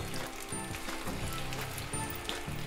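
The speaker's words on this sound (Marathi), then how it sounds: "हाय टू मिडियम फ्लेमवर आपल्याला हे तळून घ्यायचे आहे" Gobi manchurian cauliflower fritters deep-frying in hot oil over high to medium flame, a soft, busy bubbling and crackle with faint pops, fairly quiet and steady throughout.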